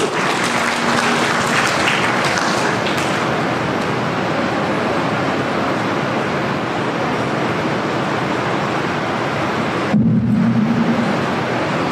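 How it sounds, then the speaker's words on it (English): Heavy, roaring applause from a large school audience at a debate, continuous and loud for the full length, with a sharp burst of extra noise near the end. "A round of applause to Pritesh"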